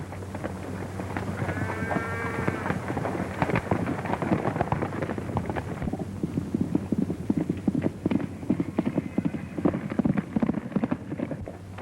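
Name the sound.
horse hooves clip-clopping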